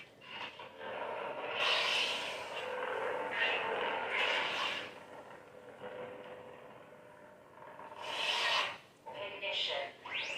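A Saberspro Grand Inquisitor neopixel lightsaber plays its ignition sound effects, several loud, close, hissing whoosh bursts with short pauses between them.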